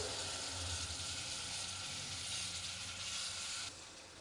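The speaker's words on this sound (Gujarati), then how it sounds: "લોટ એકદમ સરસ શેકાઈ ગયા પછી જે આપણે ગોળનું પાણી તૈયાર કરીને રાખેલું છે એ કડાઈમાં ઉમેરી દઈશું" Jaggery water added to a kadai of roasted bajra millet flour sizzles with a continuous, fairly quiet frying hiss that dips slightly near the end.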